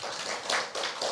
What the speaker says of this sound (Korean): 이것도 우리 조용한데 박수 한번 치고 가시.